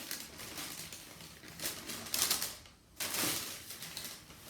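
Cardboard and paper rustle and crinkle as an Air Jordan 5 Retro shoe box is opened and unwrapped, a close, quiet flurry of crisp crackling bursts with a brief pause.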